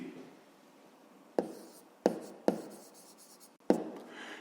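A pen writing out a grade-five math solution on paper, with soft scratchy strokes and several sharp taps as it lands on the page, close and quiet.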